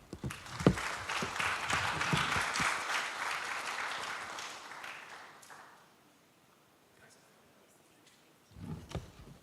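A conference audience claps for several seconds after a speaker finishes, fading out to near silence before a voice returns at the end.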